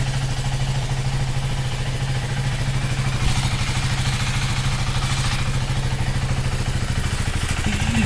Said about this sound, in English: perfect engine sound. It has been cold started, so I'm not revving it,